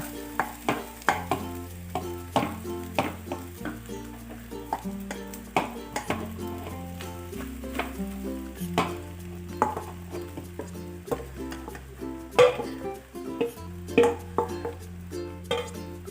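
Beaten rice (aval) upma being stirred in a pan, with scraping and clinking strokes over a steady backdrop of music and no talk.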